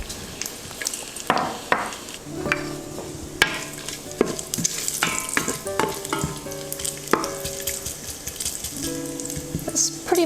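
Bacon sizzles and fries in a pan as its fat renders out, with steady crackle punctuated by clinks and scrapes of a utensil against the pan, fairly close and without talk.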